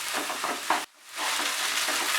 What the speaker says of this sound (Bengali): আর একটু সময় লাগবে, তবে সমানে কিন্তু নাড়তে হবে, না হলে কিন্তু নিচে লেগে যাবে।